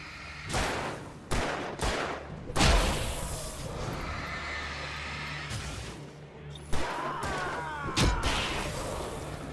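Gunshots in the video game Alan Wake Remastered, set in the woods: a handful of sharp, loud shots spaced irregularly over a rumbling game soundscape, with brief voices in between.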